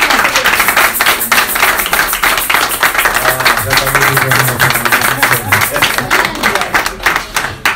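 A church congregation claps in a steady, rhythmic beat throughout, the even claps mixing with voices and singing from the crowd.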